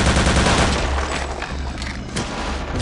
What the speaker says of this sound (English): Yep, that explosion means he's dead.